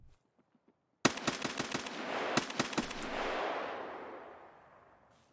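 A rapid burst of M4A1 rifle fire in a video game, a string of sharp close shots followed by a second short burst, then a long echoing decay fading into quiet.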